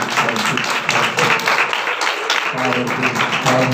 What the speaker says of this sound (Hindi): आए खुदावंद के पाक रूह के लिए और उसके गहरे मसा के लिए जोरदार तालियां बजाएं।